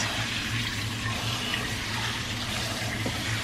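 Water runs steadily from a kitchen tap while noodles are rinsed, a continuous hissing splash at an even, moderate level with no talking.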